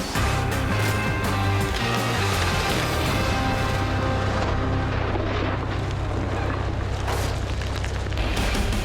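A bomb goes off to test whether oobleck is bomb-proof, heard as a loud, continuous roaring rumble that fills the whole stretch without letting up.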